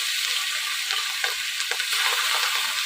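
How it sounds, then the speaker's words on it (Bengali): Pieces of hilsa fish fry lightly in oil, giving a dense, steady sizzle with faint crackles throughout, close and with no talk. "ইলিশ মাছ তো এমনিই খাওয়া যায়, তবুও একটু ভাজলাম হালকা করে"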